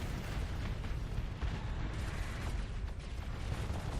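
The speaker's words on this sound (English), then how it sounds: "D-Hole got killed by some sort of explosion." Explosions and rumbling blasts from a space battle in the game Starsector, a steady, dense roar of booms and bursts lasting throughout, fairly quiet overall with no voices.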